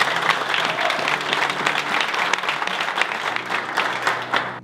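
A large stadium crowd applauds Ángel Di María's farewell to the Argentina national team after the 2024 Copa América, a dense, loud, continuous roar of clapping that fills the space.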